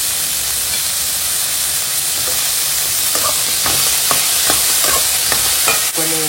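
Freshly cut carrots tipped into a hot pan and stirred, a loud continuous sizzle overlaid by a run of sharp spatula scrapes and clinks that grow busier toward the end, without speech.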